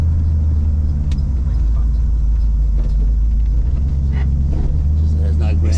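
Rumbling V8-style engine of an old American custom sled with pinstriping, a loud continuous low burble heard close, with someone talking over it.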